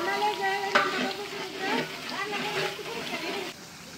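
Spices fry and sizzle in a pan for biryani while a spoon stirs and scrapes through them, a steady close hiss with clinks of the utensil and a voice talking partway through.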